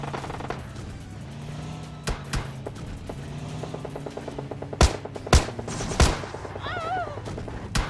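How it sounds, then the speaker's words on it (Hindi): Gunfire in the mobile shooter PUBG Mobile Lite: scattered shots build into several loud, sharp cracks near the end, over a looping game soundtrack with no talking. "उसके बाद हमको प्रोमोटरी से फायरिंग आती हुई सुनाई देती है"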